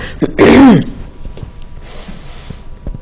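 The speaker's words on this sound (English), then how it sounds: "I am destined to cough." A single harsh throat-clearing cough bursts out near the mic, followed by quiet background rustle and faint noises.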